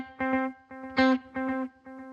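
Guitar notes run through a digital delay pedal set to a vintage digital sound with reduced sample rate and bit depth, repeats darkened and gritty with digital distortion; several sustained, buzzy plucked notes ring out with echoing tails, alone without talk.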